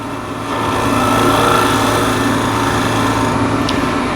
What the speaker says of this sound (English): A little shear scrape.